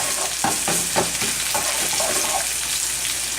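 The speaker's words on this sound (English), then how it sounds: "We're going to add the sliced onions." Half of a medium onion, sliced, sizzles and fries in a hot pan alongside pancetta and roasted garlic, with a steady hiss and a few stirring scrapes and clicks throughout.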